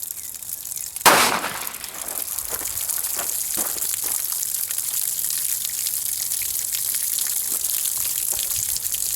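A revolver bullet from an NAA Pug strikes a water-filled jug outdoors, giving one sharp, loud impact crack followed by faint splashing and trickling water.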